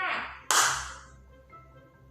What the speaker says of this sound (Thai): เด็กดีปรบมือหนึ่งครั้งค่ะ